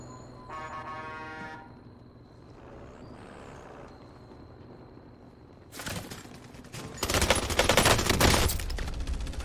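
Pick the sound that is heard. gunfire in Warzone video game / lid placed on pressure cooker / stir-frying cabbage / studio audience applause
gunfire in Warzone video game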